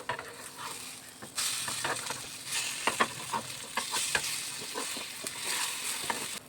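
Onion egg rolls fry in a pan with a steady crackling sizzle, broken by scraping clinks and knocks as they are turned over, the frying surging louder after the first second and staying busy throughout.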